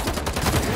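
Gunfire from paparazzi in Marvel's Spider-Man 2: a dense, steady barrage of rapid shots packed into under a second, loud and continuous with no pauses.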